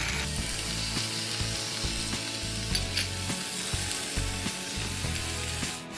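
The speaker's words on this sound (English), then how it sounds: "Now we add mushroom and fry it a little bit." Mushrooms fry in a pan for a mushroom sauce, a steady close sizzle with occasional clicks and scrapes of stirring throughout.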